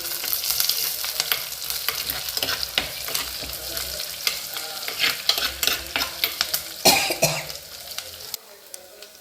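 Curry leaves crackle and spit in hot oil at the start of a fish curry, a busy sizzling with utensil scrapes and stirring, and a brief cough near the end.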